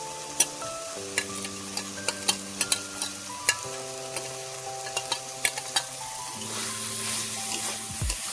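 Malabar spinach (poi saak) stir-fried with pre-fried potatoes in a pan for a Bengali prawn dish: steady close sizzling with repeated sharp scrapes and clacks of a spatula stirring the greens, with a steady hum underneath.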